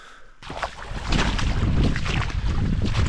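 Wind rises into steady, loud buffeting at a rainy wilderness camp, building over the first second into a rough, close rush with low rumbling microphone gusts and no talk.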